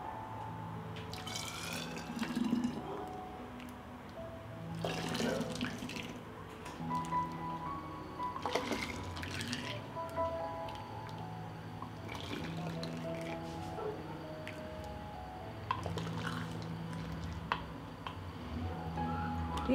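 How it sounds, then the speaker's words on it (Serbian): Hot homemade sour cherry syrup poured into sterilised glass bottles, with intermittent liquid pouring, dripping and glassy clinks at close range over a faint hum, without speech. "I sad ovako vreo sok sipamo u flaše."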